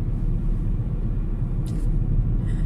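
Inside a car on a road trip, a steady low road and engine rumble fills the cabin with no voices.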